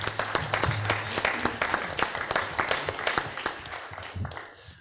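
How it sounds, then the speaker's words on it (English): An audience claps for the panelists at an alumni association marketing panel event, a dense spread of hand claps tapering off toward the end, with no speech. "I think a round of applause for the panelists as well"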